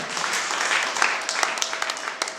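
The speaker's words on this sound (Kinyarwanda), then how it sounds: "Amashyi menshi ku mushumba" Applause for the pastor at a church gathering, a steady wash of many hands clapping, moderately loud throughout.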